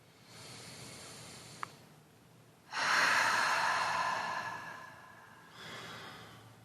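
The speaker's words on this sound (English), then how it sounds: "Taking some big deep breaths here." Deep breaths drawn during a calm yoga flow: a slow inhale, then a longer, louder airy exhale, followed by a softer breath, all close and quiet with no speech.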